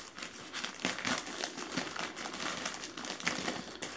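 Plastic parcel packaging from China, heavily taped, crinkles and crackles in irregular close bursts as it is torn open by hand, steady and fairly loud throughout.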